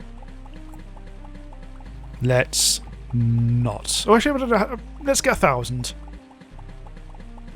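Liquid being pumped in the video game Starbound makes bubbling, gurgling bursts with rising pitches, intermittent over a droning game background while someone talks.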